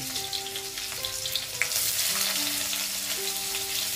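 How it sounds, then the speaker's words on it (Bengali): Chopped onions frying in oil in a pan with black cumin seeds, a steady close sizzle running throughout and growing a little louder partway through, with faint background hum. "দিয়ে পেঁয়াজগুলোকে আমি ভেজে নেব। পেঁয়াজগুলোকে ভালো মতন ভেজে নিতে হবে।"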